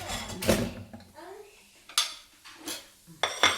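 A spoon stirs soup in a pot, clanking and scraping against the metal in a few sharp, close strikes separated by quieter stretches, with a faint voice briefly in the background.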